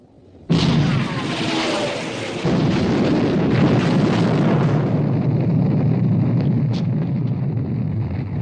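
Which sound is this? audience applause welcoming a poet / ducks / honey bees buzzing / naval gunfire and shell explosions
naval gunfire and shell explosions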